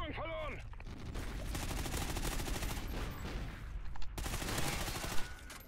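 Rapid gunfire from Call of Duty Ghosts crackles continuously in the multiplayer game, dense and sustained, with a couple of louder shots standing out near the end.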